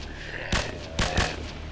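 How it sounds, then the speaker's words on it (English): Three loud, sharp gunshots ring out in a video game level in Dread, spaced a fraction of a second apart over a steady background hum. "let's shoot these guys"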